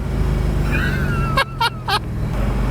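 A 2006 Spyker C8 Spyder's engine drones steadily under way, loud and close, while a few short vocal sounds break in near the middle.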